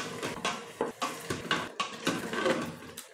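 Black chickpeas (kala chana) being stirred and sautéed with spices in a Geek Robocook cooker pot, with a series of close, sharp scraping clinks of a spoon against the pot in an uneven rhythm, no talking.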